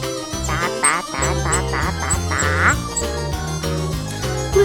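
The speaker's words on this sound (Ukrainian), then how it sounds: "Кличе мама кача, тесь, тесь, тась, мале дитя, ти йди скоріш, пшенички поїш" A duck quacks repeatedly in a rhythmic run of calls, a mother duck summoning her ducklings, loud and close over steady tonal background music.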